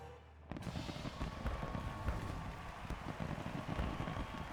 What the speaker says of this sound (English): Blow up some fireworks, everyone gets excited.